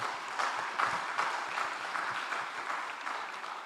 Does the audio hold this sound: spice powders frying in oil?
no